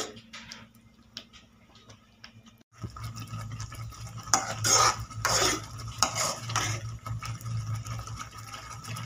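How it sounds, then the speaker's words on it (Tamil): Cabbage mushroom masala stirred in a pan, a near spatula scraping and tapping against the metal in quick repeated strokes, quiet at first and then louder, busier bursts of scraping. "நல்லா கிளறி விட்டு வேக வைக்கணும்."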